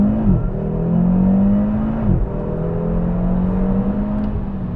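Audi RS3 accelerating hard onto a Greek motorway, its engine rising in pitch through two gear changes, loud and close from inside the car with steady road and wind roar beneath.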